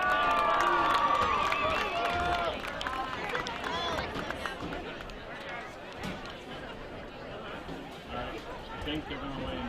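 A crowd in the stands at a high school football game between Frederick Douglass and Lexington Catholic cheers for the cheer, dance and band seniors, a loud mass of shouts and chatter that slowly eases, with voices mixed throughout.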